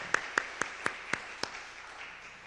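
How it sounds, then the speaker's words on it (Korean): A Korean church congregation at a women's mission society dedication service gives a round of encouraging applause, six distinct rhythmic group claps followed by a softer fading wash of clapping. "격려의 박수 한번 올려드리겠습니다."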